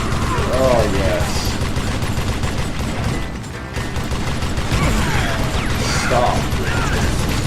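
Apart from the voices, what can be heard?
cranking chain gun sound effect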